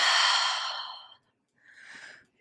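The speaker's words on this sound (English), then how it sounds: "Deep inhales, deep exhales here." Slow, deep breathing during a Pilates reformer workout: one long, loud exhale followed after a brief pause by a softer breath, close to the microphone.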